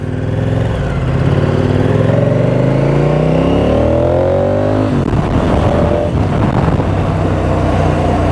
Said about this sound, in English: I love the sound of this bike. It's quite good when you get into top gear.